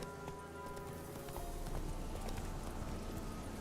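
Roach, the horse in The Witcher 3 video game, gallops with a steady, fast clip-clop of hooves over a continuous game soundscape, moderately loud and close, with no talk over it.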